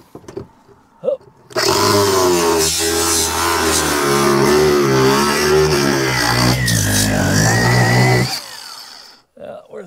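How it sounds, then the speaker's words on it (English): An angle grinder cuts metal hinges off an old chicken house, a loud, continuous high-pitched whine with shifting pitch lasting about seven seconds, preceded and followed by quieter handling noise. "I'm going to grind this off because we don't need this part."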